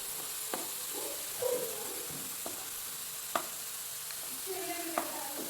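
French fries crackle and sizzle in hot oil while a utensil stirs them, with scattered scraping knocks and clicks over a constant, close frying hiss.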